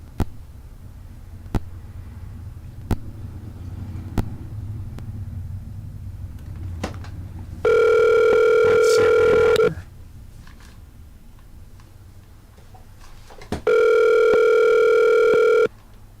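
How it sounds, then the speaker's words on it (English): Dial tone and outgoing ring on a telephone line: a series of sharp clicks over low rumble, then two loud, steady two-second rings spaced about four seconds apart, with no voices. "I'm gonna make a quick phone call."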